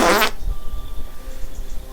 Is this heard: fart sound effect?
yes